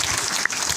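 Audience applause at a government ministerial event in India for an MSME initiative, a short burst of dense clapping filling the moment, fairly loud with no voices over it.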